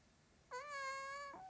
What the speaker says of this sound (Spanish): Uy, un gatito en la hierba.